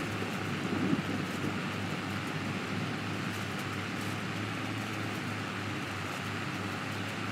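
Steady in-game rain falls in Farming Simulator 22 on the Ballam Road dairy farm, a constant even hiss of moderate loudness with a faint low rumble, with no voices.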